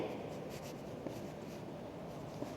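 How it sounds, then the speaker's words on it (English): A pen or marker scratches steadily across a board as names of sentence types are written out, a close, continuous rustling stroke with no talking. "I am writing first of all the names"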